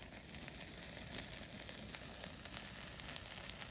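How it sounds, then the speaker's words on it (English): Toast frying in a pan, a faint, steady hiss and crackle of sizzling with tiny pops throughout and no voices. "Let me flip the toast."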